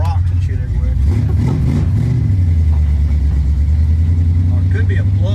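Ford Foxbody V8 idling with a possible plug fault, a close, loud, lumpy low rumble with a brief rise in revs early on, while people talk over it.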